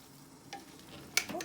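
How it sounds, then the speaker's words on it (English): Pork and cabbage for Milanese cassoeula are stirred gently in a pot: a few quiet, soft scrapes and one sharper clink in a short, faint moment. "Try to be a little delicate when you stir."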